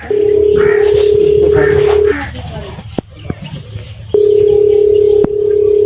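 A steady telephone dial tone hums for about two seconds, breaks off amid faint background noise and a few clicks, then returns and continues to the end.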